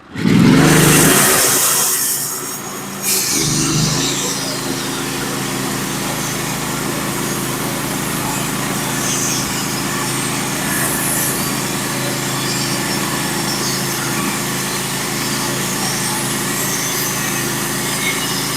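A Norwood HD36v2 portable sawmill cuts 5/4 black oak floor boards, a steady high-pitched engine whine and blade drone running loud and continuous after a brief louder start, with no talking.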